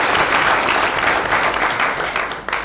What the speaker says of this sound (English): So if you just have a round of applause for Dave Wedding.